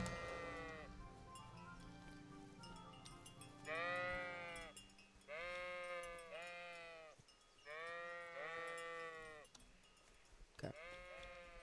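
Sheep bleating in the medieval video game Kingdom Come: Deliverance, a string of five or six loud, wavering bleats, some overlapping, in a quiet field setting with no talk.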